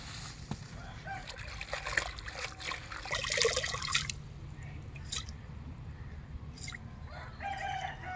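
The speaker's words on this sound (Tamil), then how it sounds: "நம்ம நல்லா அலசிக்கலாம் கீரையை" Spinach leaves are rinsed in water in a village kitchen, with soft splashing, dripping and squishing in short bursts; a rooster crows in the background.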